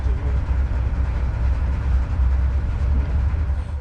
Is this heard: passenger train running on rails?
yes